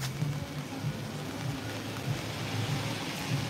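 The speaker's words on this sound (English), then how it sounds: "It's still raining." Steady rain falls at Coney Island, Brooklyn, a faint, even patter and hiss that holds throughout with no voices.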